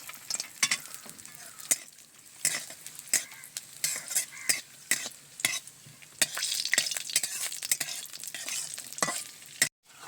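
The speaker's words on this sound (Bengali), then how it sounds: "তো প্রথমেই আমি কাজু কিশমিশটা ভেজে তুলে নেব।" Cashews and raisins fry in hot ghee with a bright, crackling sizzle, broken by frequent sharp scrapes and clinks of a spoon stirring in the pan, growing denser and louder toward the end.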